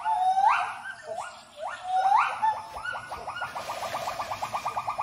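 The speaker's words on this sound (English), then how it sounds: "the gibbon family defend its boundaries, warding off fellow gibbons with vigorous visual and vocal displays" Territorial calls from a wild gibbon family, rising whooping notes repeated in a rhythmic series that quickens into a rapid trilling climax, loud and clear over a quiet forest background.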